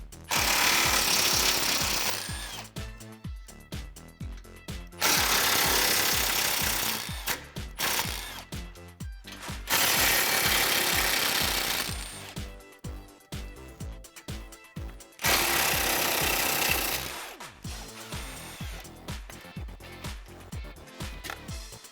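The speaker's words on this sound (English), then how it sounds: "You have 4 8mm screws we have to remove," A power tool removes four 8mm screws from the intercooler supporting bracket on a 2015-2021 Mustang EcoBoost. Four long, loud bursts of rapid impact rattling are separated by shorter intermittent ratcheting and clicking.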